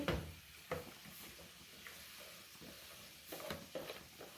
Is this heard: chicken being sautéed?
yes